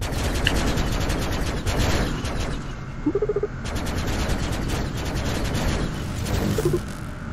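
Weapons on the Hierax heavy star fighter in the space game Starship EVO fire in rapid, continuous bursts of dense, loud rattling blasts. Brief electronic beeps cut through the barrage, and nobody speaks.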